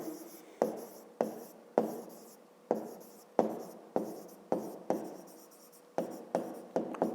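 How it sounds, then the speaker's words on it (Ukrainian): A pen writes out a fifth-grade maths exercise on paper, close and alone, in quick strokes with short pauses between them. "Отже, записуємо тоді."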